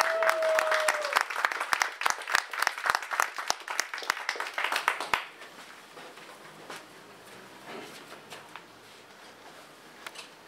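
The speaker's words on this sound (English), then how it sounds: "Give a round of applause." An audience claps in loud, dense applause that fades sharply midway, leaving only scattered light claps and quiet room noise.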